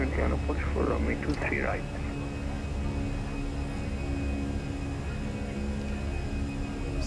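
Airbus A320 engines in climb thrust in Microsoft Flight Simulator 2020, a Fenix A320 on a Manchester departure: a steady, even drone hums throughout, with a voice talking briefly over it at the start.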